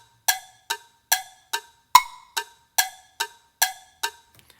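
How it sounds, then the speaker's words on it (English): A Tonal Energy app metronome clicking eighth-note subdivisions, ten crisp evenly spaced ticks with a louder accented beat, close and alone. "I can play an 8th note, which will sound like this."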